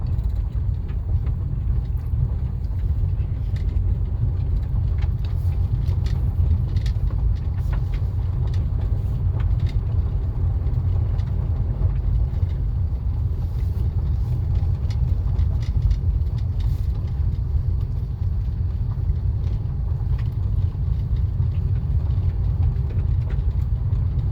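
A car drives along a rural road through fall foliage near Mendota, Virginia, with a constant loud low engine and road rumble heard from inside the cabin, steady throughout with no talking.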